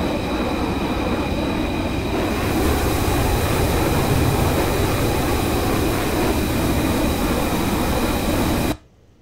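Jet engine of a Mirage 2000C in a flight simulation game, a loud continuous roar with a steady whine, holding constant before cutting off abruptly near the end.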